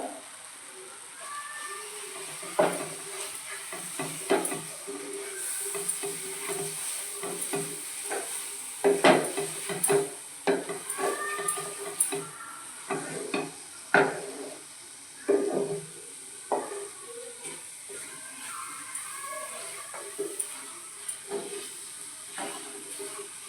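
A banana modak mixture with milk powder is stirred in a pan, with repeated scraping and tapping strokes over a low, hissing sizzle that comes in uneven bursts.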